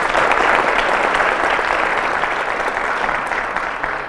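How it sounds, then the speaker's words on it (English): An audience at an ecocide presentation applauds steadily, dense continuous clapping that stays loud and fades only slightly over four seconds. "I'd like you to give them a round of applause."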